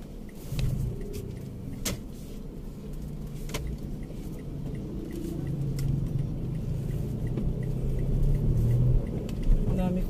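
A car engine rumbles low while being driven with pedal pumping and revving by a driver in high heels, the drone swelling gradually louder, with occasional knocks and thumps from inside the cabin.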